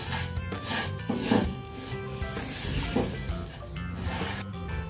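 Vermicelli (seviyan) roasting in desi ghee gives a soft, continuous rustling stir and scrape in a pan, close and steady for a few seconds, with no talk.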